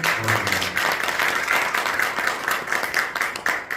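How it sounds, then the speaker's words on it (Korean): Audience applause for a professor at a Korean education policy presentation, a full, steady wash of many hands clapping that carries on throughout. "함승수 교수님 수고하셨는데 박수 주시겠어요?"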